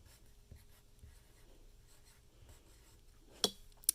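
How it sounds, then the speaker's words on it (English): A pen or pencil writes a name on paper in faint, soft scratching strokes, close and quiet, ending with two sharper taps. "I'm going to write my name"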